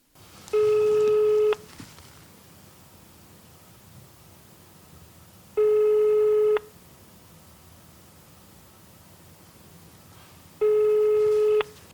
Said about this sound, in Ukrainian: Зателефонувавши з іншого номеру телефону, слухавку так ніхто і не підняв.